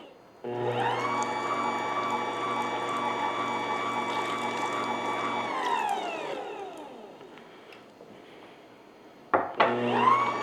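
A Joydream dough mixer machine churns dough and water with a steady, loud motor whine, then spins down and stops, followed by a sharp clunk and brief restart.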